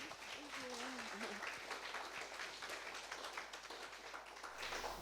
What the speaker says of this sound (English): let's give a huge round of applause to Beth